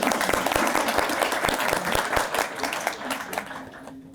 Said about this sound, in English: Round of applause for the question.